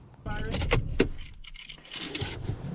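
A set of keys jangles close to the microphone in a car, with a steady rustle of movement and a low vehicle rumble underneath.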